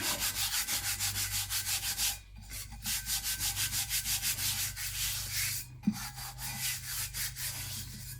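A hand rubs holographic silver transfer foil onto a tumbler in fast, rhythmic strokes, a close, loud, steady swishing with two short pauses between runs and no talking.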